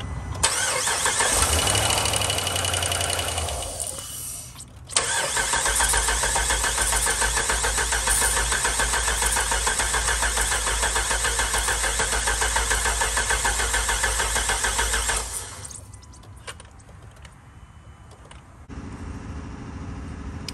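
A Hemi car engine cranks briefly, catches and settles into a loud, steady idle close by, runs for about ten seconds, then shuts off, leaving quieter background noise.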